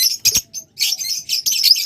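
Pet lovebirds, budgerigars or cockatiels of local breed give a brief flurry of high chirps and tweets, several quick calls close by within a couple of seconds.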